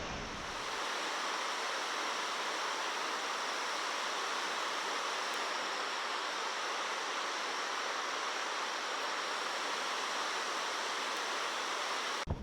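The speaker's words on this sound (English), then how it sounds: "that's our first waterfall" A waterfall at Akaka State Park on Hawaii's Big Island roars as a steady, broad rushing wash, heard from a distance without pause or voices.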